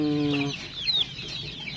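A few soft clucks from small chickens, close by, with a brief higher squawk in the middle; short and lively.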